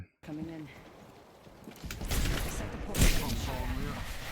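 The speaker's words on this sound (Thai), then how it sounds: "โดนรีพิเตอร์ยิงเข้าหัวไปโคตรแรงนัดเดียว" A single heavy Repeater rifle headshot in Apex Legends cracks out loud and close in the middle of the stretch, over ongoing gameplay noise, with a brief voice heard near the start.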